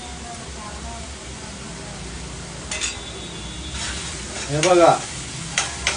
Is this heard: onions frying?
yes